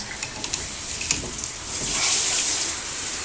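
Water running from a newly installed shower head, a steady hiss and splash of flow with a few small clicks and knocks near the start.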